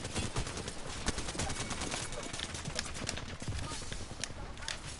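Rapid gunfire from a video game battle, dense bursts and sharp shots packed continuously across the clip, loud and close, with game sounds and faint voice chatter blended in.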